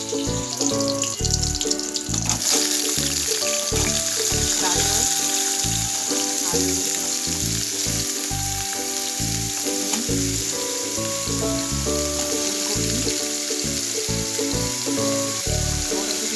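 Chopped peas, carrots, beans, cauliflower, tomato and potato fry in hot oil with a loud, steady, close sizzle that never lets up, and stirring and clattering can be heard through it.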